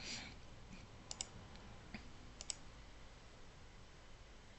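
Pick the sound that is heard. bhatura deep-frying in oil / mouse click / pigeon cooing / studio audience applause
mouse click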